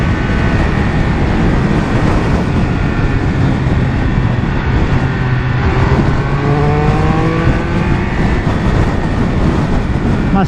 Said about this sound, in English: let's try and get a bit of a hot lap going